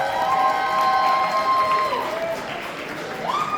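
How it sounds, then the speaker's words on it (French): Applause and cheers from an audience at a cosplay contest and awards ceremony, a steady crowd wash running the whole time, with tonal voices or whistles rising above it. "On peut l'applaudir très fort."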